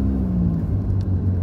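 A car drives through the Same district of Hachinohe at night, its engine a steady low rumble with road noise holding constant and close, no voices over it.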